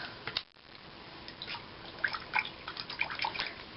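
Soapy water being stirred in a bowl for soaking stamps off envelopes, with faint irregular sloshes and drips close by, quiet and intermittent.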